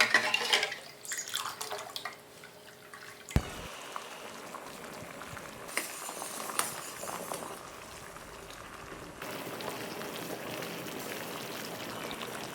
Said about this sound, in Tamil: பாகு நல்லா கொதிச்சிருச்சு.